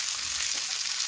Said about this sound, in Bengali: দেখুন আমি এইভাবে নাড়াচাড়া করে বেশ কিছুক্ষণ ধরে একটু ভেজে নেব।